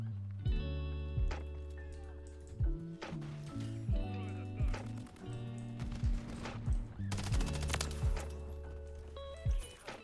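Gunshots in Modern Warfare 3, a series of sharp single shots and short bursts scattered through the clip over a steady game soundscape and music, at moderate loudness.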